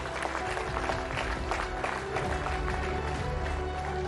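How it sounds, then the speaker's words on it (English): An audience applauds at a televised Indian awards and performance event, sustained dense clapping continuing for several seconds at moderate distance with no break. "You can be a little more generous with your applause, ladies and gentlemen."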